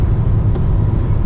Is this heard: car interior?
yes